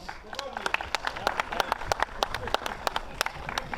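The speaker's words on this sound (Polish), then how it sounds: "Największe Oklaski dla pana." Scattered hand clapping from a small crowd at the Panorama motor fest, honoring a prize winner outdoors, steady light claps with a murmur of voices underneath.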